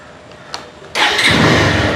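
A motorbike engine bursts from a quiet idle into a loud, sustained roar under sudden hard acceleration, close up and with no one talking.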